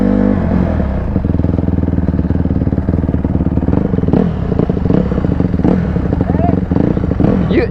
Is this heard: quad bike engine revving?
yes